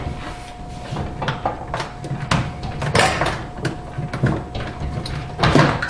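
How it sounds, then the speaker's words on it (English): A dishwasher door opens during a sump, pump and seal repair, with a series of close clunks, rattles and scraping knocks of metal and plastic over a faint steady hum. "Open the door."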